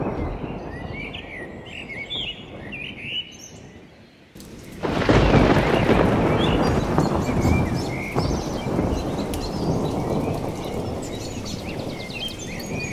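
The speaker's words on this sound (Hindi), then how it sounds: "तभी अचानक से मूसलाधार बरसात शुरू हो जाती है।" In a cartoon, birds chirp over a quiet background until sudden torrential rain breaks in with a loud roar and a crash of thunder, and the downpour then continues heavily.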